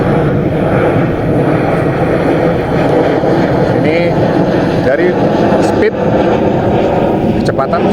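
Steady buzzing whine of an ATOMRC Penguin RC model airplane's propeller motor in flight at 48% throttle, running continuously close by, with a few brief clicks and rattles near the end.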